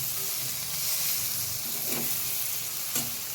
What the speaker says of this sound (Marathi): आता याच्यात बघा मिरची माझी भाजली आहे चांगली